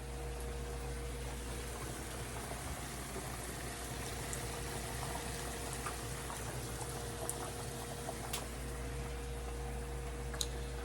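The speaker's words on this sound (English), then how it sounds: "the meat is cooking with the vegetables in it as well" A pot of meat and vegetable stew simmers steadily, a soft continuous bubbling with occasional faint pops, close and quiet, with no talking.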